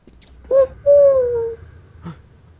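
Two soft, hooting owl calls in the video game Metro 2033 sound close and clear, the second longer and gliding downward, followed by a faint short thump.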